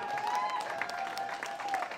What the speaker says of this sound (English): I think I deserve a better round of applause than that.